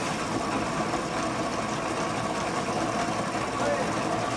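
A mechanized grinder called a Rola churns mud into fine powder with a steady, unbroken whirring drone, while a voice talks faintly underneath.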